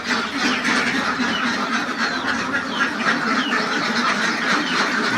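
A flock of egg-laying ducks quacks continuously at close range, a dense overlapping chorus of squawks with no talk.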